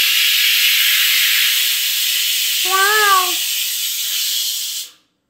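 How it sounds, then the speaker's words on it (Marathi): A loud, continuous steam hiss from a pressure cooker whistle, with a brief wavering tone in the middle, then cutting off abruptly. "ये कुकर भी ना मेरे को देख की पता नहीं ज्यादा सिट्टियां मार रहा है"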